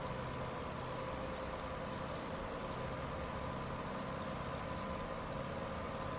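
A modded truck engine in American Truck Simulator idles with a steady, dense rumbling drone that holds evenly throughout, with no voices.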